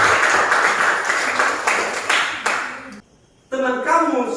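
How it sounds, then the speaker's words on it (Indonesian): A class claps hands in a classroom, a dense burst of clapping lasting a few seconds before stopping abruptly, then a voice begins speaking. "Tepuk tangan dulu sebelumnya."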